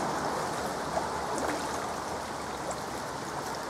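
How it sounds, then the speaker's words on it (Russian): Water flowing steadily from the source of a lake, a soft continuous rushing stream at moderate distance with no talk. "Исток озера, реки. Далее отсюда вода течет"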